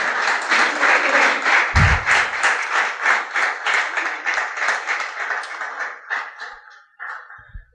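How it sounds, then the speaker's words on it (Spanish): Applause from a church congregation offered to the Lord, rhythmic unison clapping that starts strong and gradually fades and breaks apart into a few last claps. "¿Cuántos dan un aplauso al Señor?"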